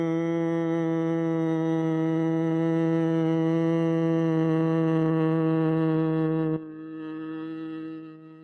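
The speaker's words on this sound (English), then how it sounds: "I create the bumblebee sound like this." A person's bumblebee breathing hum during a yoga exhale: a steady, buzzing voiced drone held for several seconds, fairly loud and close, then dropping to a softer tail as the breath runs out.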